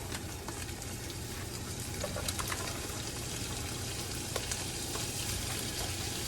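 Pork frying in a pan with dried cranberries added, a steady close sizzle and crackle with occasional light stirring clicks, no talking.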